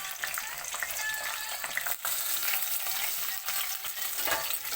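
Onions and chillies fry in hot oil in a pan, a dense, continuous crackling sizzle with occasional stirring scrapes, close and fairly quiet.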